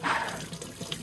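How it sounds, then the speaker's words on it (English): Water runs from a tap in a brief, steady stream, with light splashing as a potato is rinsed under it. "I wash the potato."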